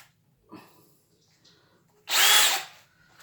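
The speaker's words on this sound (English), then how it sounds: "my Craftsman brushless hammer drill" A short burst of a Craftsman brushless hammer drill whirring at high speed for about half a second, loud and close, after quiet handling noises.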